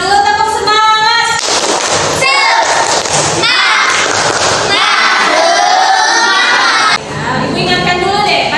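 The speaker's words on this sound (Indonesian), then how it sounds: "kita tepuk semangat dulu, tepuk semangat" A school class claps the rhythmic tepuk semangat spirit clap in a classroom, loud percussive bursts in a quick patterned beat mixed with children's voices chanting and shouting along throughout.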